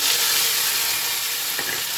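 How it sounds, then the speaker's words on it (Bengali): Ground onion, ginger, garlic and green chili paste frying in hot oil in a wok, a steady loud hiss and crackle of sizzling that continues evenly throughout with no talking. "আমার তেলটা গরম হয়ে গেছে পেঁয়াজ আদা রসুন কাঁচা লঙ্কা একসঙ্গে বাটিয়ে রেখেছি এবার দিয়ে দেবো কড়াইয়ের মধ্যে"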